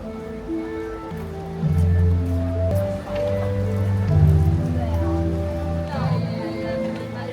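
Rain patters steadily in the background beneath voices talking nearby, a continuous wet hiss with occasional drips, at a crypto event in Singapore.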